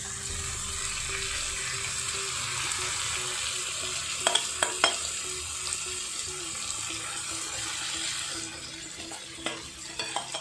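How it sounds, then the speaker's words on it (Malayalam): Chicken chukka being stirred in hot oil over a low flame, with a steady close sizzle and a few sharp scrapes and clinks of the spoon against the pan. "ഈ എണ്ണയിലൊന്ന് മിക്സ് ചെയ്തെടുക്കാം."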